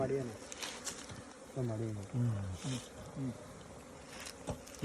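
Honeybees hum around their hive boxes, a continuous close buzz, while a voice talks over it in a few short bursts.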